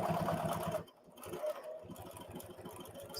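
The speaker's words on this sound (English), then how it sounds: "Just back stitching" HD9 sewing machine back stitching through leather, a steady rapid mechanical chatter that runs loud, breaks off briefly, then resumes at a rhythmic pace.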